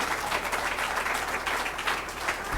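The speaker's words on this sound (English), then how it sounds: "Now y'all can clap." Applause from an audience at a Louisville community event, a steady dense wash of clapping held at moderate level for a couple of seconds.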